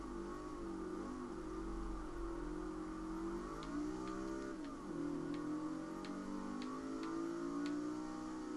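Car engine in the racing video game Forza 6, an old 1950s car: a steady, low droning engine note that holds evenly throughout with a slight dip and rise midway, with faint ticking above it.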